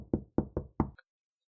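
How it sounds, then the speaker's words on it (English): Four firm knocks on a wooden door, evenly spaced with the last slightly delayed, close and clear, followed by a faint clink and then silence, as a sound effect in a young adult dragon story. "His arm was heavy and his heart ice cold as Phelan lifted his hand to knock"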